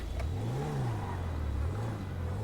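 A car engine in GTA V hums and rises and falls steadily as the vehicle is driven, moderately quiet and without any talk.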